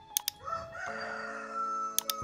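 A rooster crows nearby, one long, loud cock-a-doodle-doo lasting most of the moment, framed by a few sharp clicks at the start and end.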